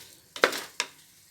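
A brief burst of sizzling with two quick scraping strokes in a pan over medium heat, sautéing masala with raw jackfruit for biryani, close by, then quiet hiss.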